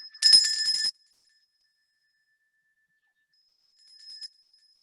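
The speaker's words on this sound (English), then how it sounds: "So I have here my own bell" A small handheld bell rings once with a bright, sharp strike that fades, followed later by a softer second ring.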